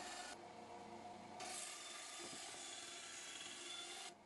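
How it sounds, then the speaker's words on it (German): A hand saw cuts small blocks from rough, unplaned scrap wood, producing a continuous close rasping stroke that runs almost unbroken, with no talking. "Als nächstes werden Klötzchen gesägt, die ich unter meine Straße platzieren kann"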